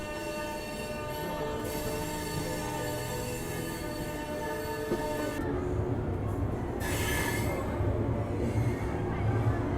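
An Indian express train pulls into Agra station, its wagons rolling past steadily with rumbling wheels and a brief squeal, loud and close, with a lighter hiss toward the end and no talk.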